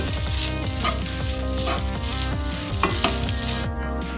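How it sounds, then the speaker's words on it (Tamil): Cooked rice and egg stirred together in a hot pan for egg rice: constant sizzling with repeated scraping strokes of a spatula, close and steady, no talking. "நல்லா இந்த சாதத்தோடு இந்த முட்டை கலக்கிற அளவுக்கு கிளறி நம்ம ஆஃப் பண்ணிக்கலாம்"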